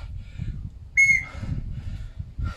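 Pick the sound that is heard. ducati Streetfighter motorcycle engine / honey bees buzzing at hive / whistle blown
whistle blown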